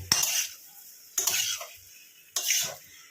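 Metal spoon scraping and stirring in a pan as spices are sautéed with egg and potato for an egg curry, three separate short scraping strokes with quiet gaps between them.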